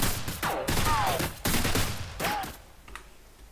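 An AK-47 rifle fires in an Unreal Engine 4 first-person shooter game, a few sharp bursts of shots with brief gaps between them, loud and close, fading out toward the end.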